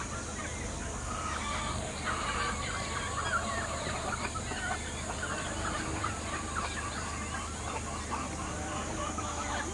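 Japanese shamo fowl and other chickens cluck and call repeatedly on a backyard farm, a busy scattered chorus at moderate distance with a faint crow among them.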